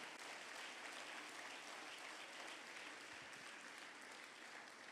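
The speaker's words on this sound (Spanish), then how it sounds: "Dele el aplauso fuerte al Señor." A church congregation applauds loudly and steadily in one continuous, dense wash of clapping that holds for the whole stretch.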